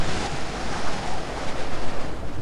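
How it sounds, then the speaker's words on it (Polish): In Heavy Metal F.A.K.K. 2, wind on the path toward the swamps rushes in loud, gusting swells, a broad roaring whoosh that rises and falls in waves with no voices over it. "Tylko czekamy na ten wiatr."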